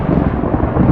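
Thunder from a nearby lightning strike rolls out as a loud, deep rumble that fills the moment without a break.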